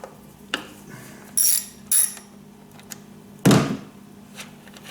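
A Torx wrench works a part loose on a Jeep Compass engine during a spark plug change, giving sharp metallic clicks and a few louder ratcheting bursts spread across the few seconds, with a faint low hum underneath.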